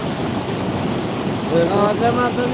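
A continuous wash of rushing floodwater from the Chandani river at Sirsav, loud and close, with a voice briefly speaking over it toward the end.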